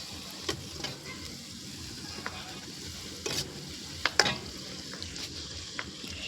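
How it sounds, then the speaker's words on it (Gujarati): Sliced okra (bhindi) sizzles in a pan while a spoon stirs it, soft steady frying broken by a few sharp scrapes and clinks, close and fairly quiet, with no one speaking. "ભીંડા ફ્રાય કર્યા"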